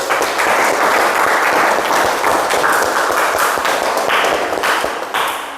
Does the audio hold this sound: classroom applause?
yes